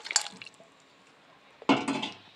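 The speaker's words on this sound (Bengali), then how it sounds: "এরপর এর মধ্যে আমরা আগে থেকে ভেজে রাখা মাছগুলোকে দিয়ে দেব।" Fried pomfret fish pieces dropped into bubbling gravy, two short wet splashes and squishes, the second louder, close and with no talk.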